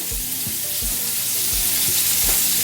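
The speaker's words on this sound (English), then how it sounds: "Give it a little stir." A simmering pot of lentils is stirred, giving a steady broadband sizzle with a slow, regular series of soft low bubbling thumps roughly every third of a second, close and continuous with no talking.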